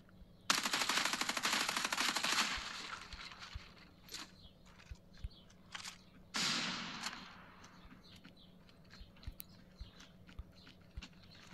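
Automatic gunfire rattles in two loud sustained bursts in the mobile tactical shooter Area F2, shots punching through a wall, followed by scattered single cracks and faint clicks.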